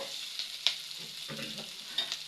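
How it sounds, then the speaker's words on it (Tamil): Small onions for an onion and green chilli varuval are tipped into a hot pan and stir-fried, giving a close, continuous hiss. Scraping spatula strokes and a few sharp clatters cut through it. "வெங்காயத்தை கொட்டி ஒரு ஓட்டு ஓட்டிட்டு"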